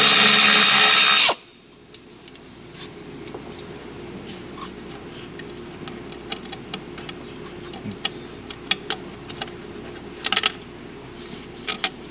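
A power tool runs loud and close on an oil cooler bolt of a 2021 Hyundai Tucson during valve body harness work, with a sharp burst lasting about a second. It then stops and gives way to faint clicks and tool handling.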